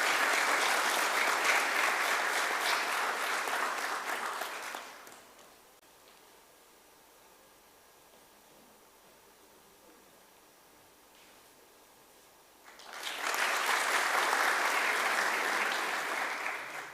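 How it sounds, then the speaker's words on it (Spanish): An audience bursts into loud, dense applause at a church Bible seminar, fading out to near silence for several seconds before a second strong wave of clapping returns and continues to the end. "Con fuertes aplausos,"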